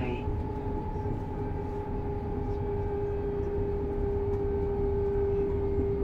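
An LNER Class 801 Azuma, a Hitachi AT300 train, runs into Leeds, heard from inside as a steady low rumble with sustained electric whine tones holding level throughout.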